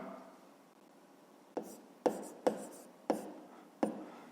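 Pen or chalk strokes writing out a fifth-grade math solution: five distinct taps and short scratches spaced about half a second apart, close and fairly quiet, with no talk.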